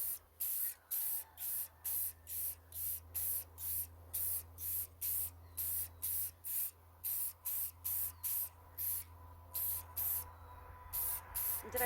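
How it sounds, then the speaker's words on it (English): Silver spray paint hisses onto a tumbler outdoors in the wind in about twenty short, evenly spaced bursts, loud and close with brief pauses between each spray. "I'm going to do this one with silver spray paint."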